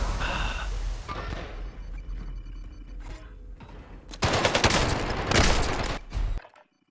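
Gunfire in a shooter video game during a tournament match: scattered shots give way to heavy, close bursts of rapid automatic fire that stay loud for about two seconds, then cut off abruptly.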